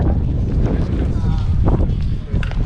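Wind blowing outdoors on a street in the spa town of Karlovy Vary, a steady loud rushing buffet across the microphone with no talk.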